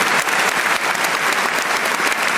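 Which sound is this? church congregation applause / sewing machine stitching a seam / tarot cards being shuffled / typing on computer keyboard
church congregation applause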